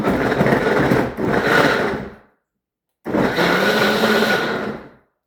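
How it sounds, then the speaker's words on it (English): A KitchenAid blender pulses a lemon elixir in two loud bursts, each roughly two seconds of grinding whir that winds down, with a short silence between them. No one speaks. "when you use the smoothie button for the KitchenAid Blender"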